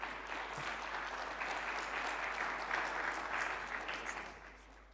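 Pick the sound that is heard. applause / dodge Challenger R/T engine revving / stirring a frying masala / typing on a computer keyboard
applause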